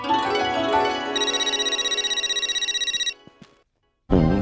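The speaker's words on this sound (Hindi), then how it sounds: "सुंदरलाल मुझे फोन कर रहा है?" Telephone ringing in a Hindi TV comedy: a steady electronic ring pulsing rapidly for about three seconds, then stopping, followed by a brief pause before another loud sound starts.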